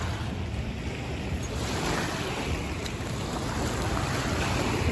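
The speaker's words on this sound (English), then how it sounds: "these are the waves of River Thames at the backdrop of the St. Paul's Cathedral and the Millennium Bridge" Waves on the River Thames in central London wash near St Paul's Cathedral and the Millennium Bridge. A steady broadband rush of water and wind fills the scene, constant and fairly loud, with no voices.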